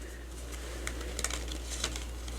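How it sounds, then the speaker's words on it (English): Soft, quick flutters and riffles of cards as a large deck is shuffled by hand, a few short crisp bursts over a steady low background hum. "let's give this a quick shuffle-rooney"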